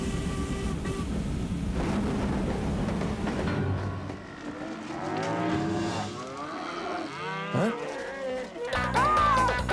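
A cartoon cow moos loudly in an animated Lucky Luke episode, with a long drawn-out low call and several more bellows following over music and other sound effects.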